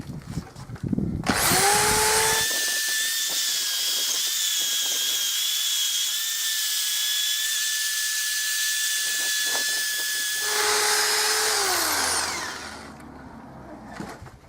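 A power drill spins a sanding attachment with A150 sandpaper against metal on a mono-wheel trailer hitch under rebuild, a loud steady high whine with gritty rasping, sustained for about nine seconds between spin-up and spin-down.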